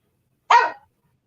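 A single short, sharp dog bark, moderately loud and close, standing alone in otherwise silent surroundings.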